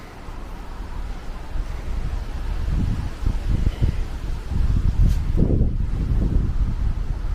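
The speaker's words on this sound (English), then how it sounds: "Seems a bit windier down here. I need to invest in a mic." Wind gusting through a graveyard at night buffets the microphone, a rough low rumble that swells and surges in bursts, loud and close, with no one talking.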